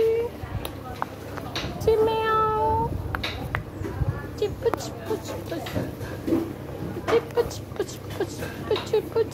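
A young kitten eating its first meal outdoors gives repeated high meows, with a clear cluster near the start and more scattered through the stretch, mixed with close chatter from people talking nearby.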